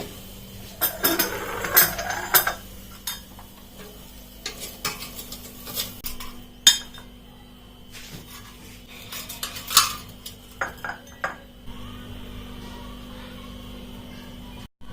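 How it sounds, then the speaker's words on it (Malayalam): A utensil scrapes and clinks against metal and a bowl as air-fried chicken fry from a Havells air fryer is moved into a serving bowl, a run of close, irregular clatters and scrapes that fades to quiet. "നമുക്കിനി ഇതൊരു സെർവിങ് ബൗളിലോട്ട് മാറ്റാം"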